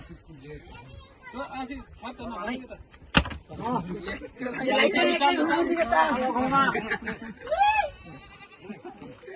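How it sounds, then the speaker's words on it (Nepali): A goat being turned for a Dashain sacrifice at a family clan worship bleats several times, close and loud, amid busy talk from children and adults. "बाख्रा घुमाउ भनेको"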